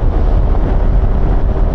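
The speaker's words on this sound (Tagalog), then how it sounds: "Medyo malakas yung hangin, no?" Loud, steady wind roar buffeting the microphone while riding fast on a motorcycle, a constant low rumble, with no talking.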